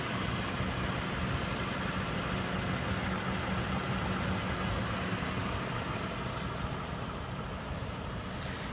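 A 2014 Lexus LS 460 F Sport idles in a steady, even low hum that stays constant throughout, with no revving or voices.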